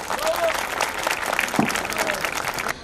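Audience at an outdoor groundbreaking ceremony for a municipal nursery in Turkey applauding, a steady, moderately loud patter of many hands clapping.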